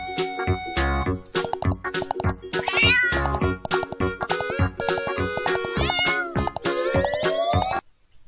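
A cat meows repeatedly, several clear, close meows in quick succession with rising and falling pitch.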